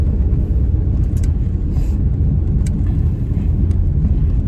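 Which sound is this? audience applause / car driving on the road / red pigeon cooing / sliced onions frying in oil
car driving on the road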